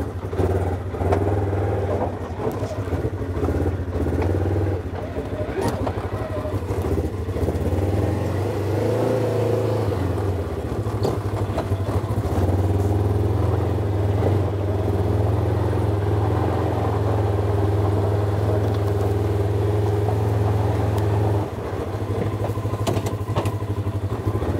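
A Polaris RZR 1000XP side-by-side with low miles on it is driven gently. The engine drones steadily and close throughout, with shifts in pitch, light rattles and thumps from the ride, and no talking.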